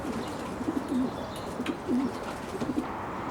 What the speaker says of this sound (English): See your pigeons.